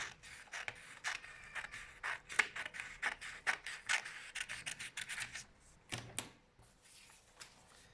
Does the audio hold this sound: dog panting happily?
no